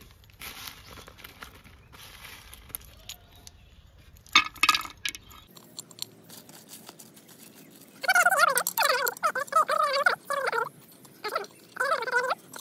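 Small stones set around a pomegranate plant in a pot give a few short, close hard clinks and taps, followed later by warbling tonal sounds.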